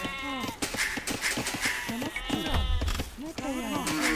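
Sheep bleating in an Age of Empires match, several short bleats scattered among clicks and game effects, with a voice talking over them.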